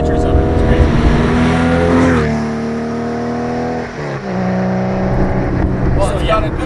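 Modified Porsche 964 Carrera 4 with a Brombacher exhaust, a loud, deep engine grumble that rises and falls through several rev changes over about seven seconds, with occasional talk underneath.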